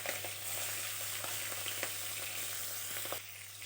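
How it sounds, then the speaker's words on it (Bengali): Shrimp fry in hot oil with nigella seeds and dried chilli, making a steady broad sizzle with faint spatters over a low electrical hum. The sizzle softens near the end, and no one speaks. "তারপর দিয়ে দিচ্ছি কালো জিরে ও শুকনো লঙ্কা ফোড়ন, তারপর চিংড়ি মাছটা দিয়ে দিচ্ছি।"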